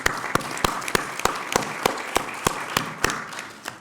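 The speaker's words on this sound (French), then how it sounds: "Oui, on peut applaudir." Applause at the opening addresses of a national conference in Marseille: a dozen distinct, evenly paced claps ring out against a diffuse crowd wash, fading slightly toward the end.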